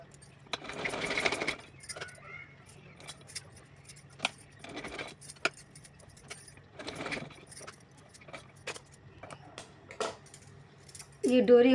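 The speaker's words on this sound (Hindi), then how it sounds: "इसके ऊपर रख करके इस तरह से सिलाई लगाएंगे।" A sewing machine stitches cloth for a small Kanha ji doll dress in short bursts of whirring, separated by quiet gaps filled with faint clicks and handling noises.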